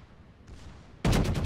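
Scharnhorst battleship guns fire in World of Warships: after a faint rumble, a sudden loud, close salvo booms out and rolls on with rapid, heavy reports.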